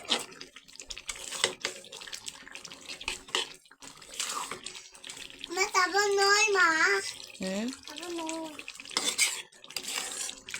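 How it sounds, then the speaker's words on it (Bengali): Chicken biryani, cooked without biryani spice mix and with powdered milk added, is stirred in a pot, with spoon scrapes and clinks against metal while a child and an adult talk nearby. "ভালো করে নাড়িয়ে দিব, চাড়িয়ে দিব।"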